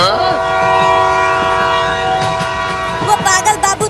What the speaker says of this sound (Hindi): आगे से ट्रेन आ रही है।